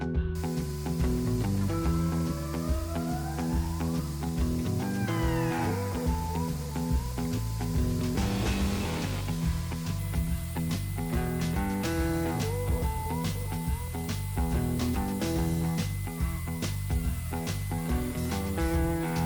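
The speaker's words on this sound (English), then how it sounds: "it came out beautifully using my Wagner sprayer, which is that high volume," A Wagner HVLP (high volume, low pressure) paint sprayer applies wall paint in a basement remodel, giving a loud continuous spray hiss with clicks and knocks throughout, no voices.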